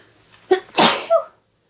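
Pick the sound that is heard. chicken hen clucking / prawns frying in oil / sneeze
sneeze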